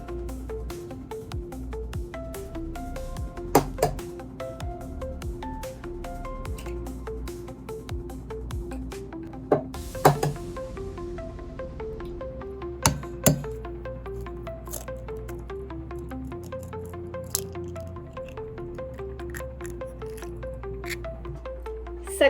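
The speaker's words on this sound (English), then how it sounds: "I always struggle with cracking eggs, so wish me luck." Eggs are cracked in a home kitchen while baking a trifle dessert: a few soft, wet squishes and small clinks sit under steady background music.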